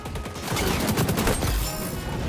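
Rapid gunfire from the XDefiant shooter game rattles in a dense, continuous burst, loud and close, with overlapping shots filling the short stretch and no voices over it.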